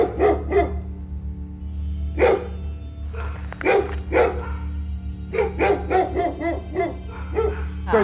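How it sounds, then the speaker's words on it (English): Several dogs bark in repeated bursts while bayed around a bear with a cub, sharp close barks and yips over a steady low rumble of background noise. "We got three dogs on the bear right now."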